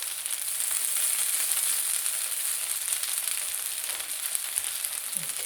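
Breakfast food frying in a pan gives off a loud, steady sizzle that runs unbroken throughout, with faint scrapes as pieces are turned and no voices.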